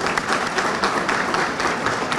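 Audience applause at a ceremony marking the Bursa light rail's anniversary, a steady wash of many hands clapping at moderate volume, with no talk over it.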